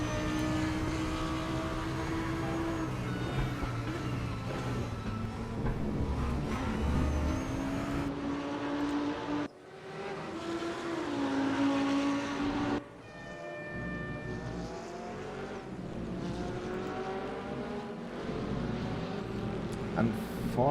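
Race cars in a sim racing game scream down the straight at Circuit Zolder in a slipstream, loud sustained engine tones rising and shifting in pitch as gears change, continuous with no talk.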